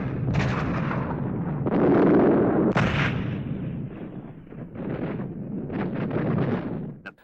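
Heavy gunfire and artillery in the Battle of Berlin, with the Reichstag under siege: dense, continuous rumbling volleys with sharper blasts near the two- and three-second marks, loud throughout with no voices.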